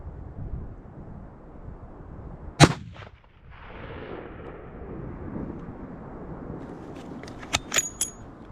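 A single sharp rifle shot rings out during a spring bear hunt in the Idaho backcountry, followed by wind noise and faint rustling, with a few light metallic clicks near the end.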